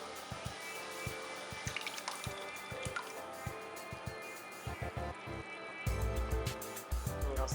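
Crushed tomatoes pour into a pan of softened onions with wet dripping and squishing plops, fairly quiet and close, turning into a heavier gloopy splatter near the end.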